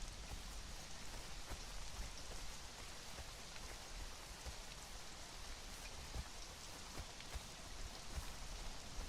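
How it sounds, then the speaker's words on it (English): Steady rain falls in the video game Conan Exiles, a constant dense hiss of drops on surfaces, even and unbroken throughout with no voices. "and immediately starts raining. Of course it does."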